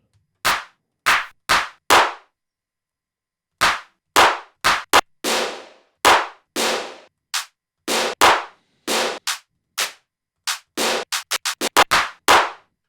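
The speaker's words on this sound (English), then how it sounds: "But we just need to find some good claps" Single dry clap samples for a music track fire one at a time with silent gaps between them, loud and crisp, then speed up into quick bursts near the end.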